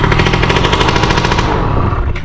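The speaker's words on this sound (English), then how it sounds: "all we're going to do is turn it on and electric start it now" A DRR USA 50/90 gas ATV engine fires on electric start after a CDI change, with a loud, rapid popping burst that runs close up before fading slightly at the end.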